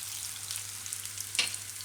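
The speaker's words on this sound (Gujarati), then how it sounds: "જીરું થોડુંક લાલ થાય એટલે એમાં આપણે આ કેળા નાખી દઈશું" Raw banana pieces drop into hot oil with cumin, giving a soft continuous sizzle with one brief sharper crackle near the end.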